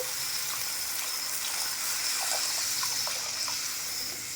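Water poured into a pan of katla fish curry to make the gravy, a steady broadband splashing rush that runs throughout, fairly loud and close, with no talking.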